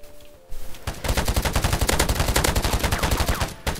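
Rapid, sustained gunfire from a Battlefield-style early-access shooter video game, a dense automatic burst running almost without pause for about three seconds after a brief quieter start, loud and close.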